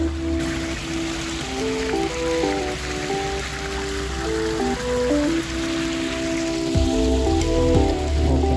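Water spilling over a series of small backyard pond waterfalls, a continuous splashing rush mixed with a tonal background hum, steady and fairly loud with no talk.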